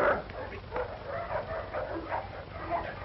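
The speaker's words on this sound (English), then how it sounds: "Sorry about the dog, Sergeant." A dog in the 1952 film War Dogs gives faint yips and whimpers, soft and somewhat distant against a muffled background.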